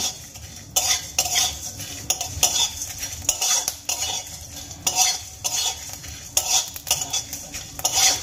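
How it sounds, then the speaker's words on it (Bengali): Whole coriander and cumin seeds dry-roasting in a pan with a spoon scraping and stirring them, giving repeated bursts of scratchy rattling at a steady rhythm, close and fairly loud, with no voices. "এবার আমি ধনে জিরেগুলো খুব ভালো করে ভেজে নেব"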